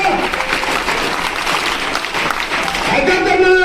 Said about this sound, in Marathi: पुन्हा एकदा जोरात टाळ्या वाजवते पवार साहेबांच्या वाढदिवसानिमित्त